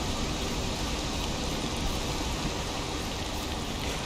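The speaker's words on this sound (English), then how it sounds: "Oh great, and now it's raining as well." Rain falling in the video game Valheim, a steady, even hiss of downpour that stays constant and fairly soft throughout, with no speech.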